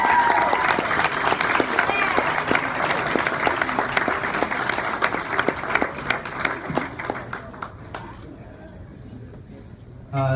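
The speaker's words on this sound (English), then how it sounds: "A round of applause for Sean." Audience applause at an alumni gathering after a speech, a sustained crowd clapping with sharp individual claps standing out, gradually thinning and fading toward the end before a sudden loud sound.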